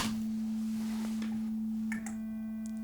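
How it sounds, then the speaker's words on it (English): A steady, pure sine test tone hums continuously at moderate level from a guitar rig with an overdrive pedal, with faint clicks and brief higher tones entering near the end. "if you turn on an overdrive pedal, any overdrive pedal, it will clip that beautiful round sine wave and squash it"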